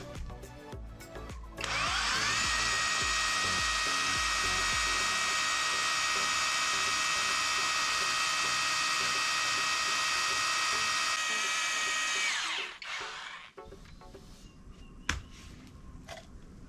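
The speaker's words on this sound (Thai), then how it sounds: "การเจาะรูในแบบโหมดที่ไม่ใช้กระแทก ผมแนะนำให้เจาะพวกกระเบื้องมากกว่า" A cordless OSUKA rotary drill with a 6 mm bit bores into concrete in non-hammer mode, a loud steady high whine held for about ten seconds before spinning down, with a few clicks and handling noises afterward.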